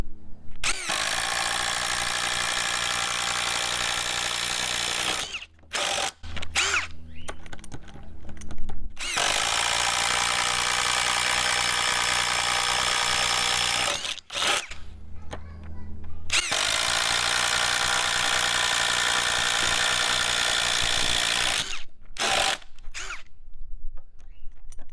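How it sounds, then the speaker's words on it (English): A Ryobi P239 brushless impact driver bores holes in wood with a 1-inch self-feeding Bosch paddle bit, running loud and steady in three long bursts separated by short pauses. "for this test, we'll do the 1-inch Bosch paddle bit. And we'll just start making some holes here."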